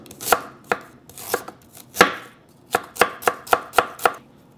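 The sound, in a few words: chopping ginger on a cutting board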